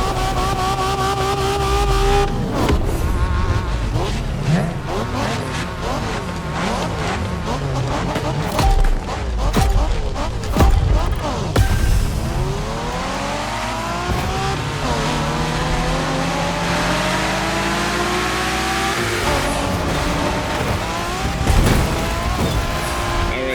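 In The Crew Motorfest, during Japanese street racing, a car engine revs hard with rising and falling pitch sweeps, gear changes and tire squeal, loud and close throughout with brief talk mixed in.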